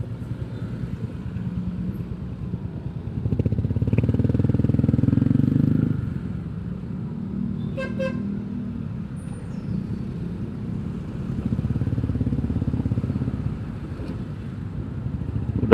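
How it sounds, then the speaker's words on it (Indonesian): Motorcycles with loud open exhausts roar through heavy traffic near a beach, swelling in steady passes alongside trucks and cars, with no voices. "di pantai ada suara motor blong"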